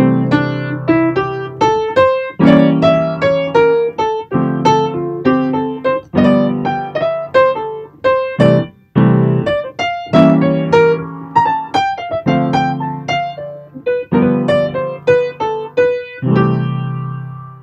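An instrumental solo in D harmonic minor over 6/7 chords on a tune, with loud, clearly articulated notes and strummed chord hits in a steady rhythmic phrase, played alone without talk.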